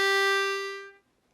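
A single harmonica note drawn on hole 2: a close, steady reedy tone held for nearly a second before fading out, heard alone.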